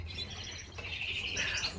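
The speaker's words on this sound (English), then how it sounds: "sitting outside and listening to nature, listening to the wild birds singing." Wild birds chirp and sing outdoors in brief, bright tweets and short trilling phrases, faint and somewhat distant over low background noise.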